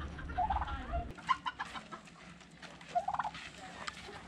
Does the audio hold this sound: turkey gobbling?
yes